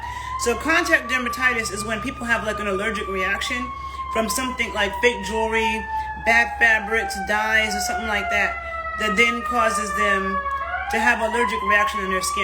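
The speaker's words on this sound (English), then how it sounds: "I'm sorry about that loud siren." A wailing siren rises and falls steadily in the background while a person talks continuously over it.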